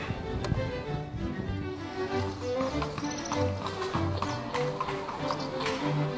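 Hooves of a two-horse carriage team clip-clop steadily on a palace garden path at Schloss Hof, a continuous rhythmic clatter at moderate distance with faint background murmur.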